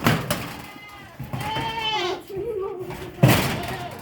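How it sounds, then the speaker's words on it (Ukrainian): Goats bleat several times close by in a snowy farmyard, wavering cries spaced across a few seconds, with a door or gate banging at the start and end. "Відкривай кози, ждуть, вони ж хочуть уже зерна, Міша."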